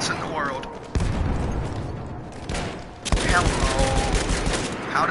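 Gunfire from the video game Battlefield 1 at Fort De Vaux, a fusillade of rifle and machine-gun shots with booming bursts around one and three seconds, running continuously under a talking player's voice.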